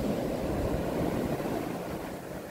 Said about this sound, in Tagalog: Tignan nyo naman yung yung alon. Ang lakas niya